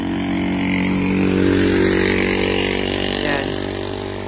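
A steady motorcycle engine hums at close range for several seconds, its pitch rising slightly mid-way then settling back, with no voices.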